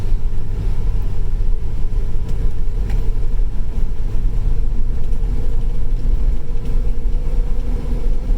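Car being driven, a steady low rumble of engine and road noise filling the interior throughout, with no talk and only slight shifts in tone.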